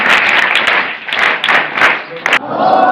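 An audience claps in bursts at a sanitation and waste-management awareness session, brief rounds of hand claps with a pause before a final short flurry, voices mixed in.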